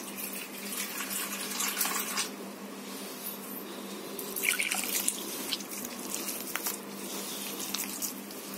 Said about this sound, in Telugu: కొద్దిగా వాటర్ వేసుకున్నాం.